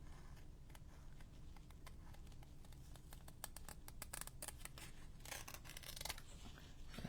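Scissors snip through string at a craft table, a quiet run of crisp, close metallic clicks and cuts that comes irregularly and speeds up toward the end, with no talking.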